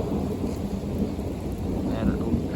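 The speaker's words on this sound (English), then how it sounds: "That was a lightning." Thunder from lightning in a heavy thunderstorm rolls as a deep, continuous rumble beneath steady rainfall, fairly close and sustained without any voices.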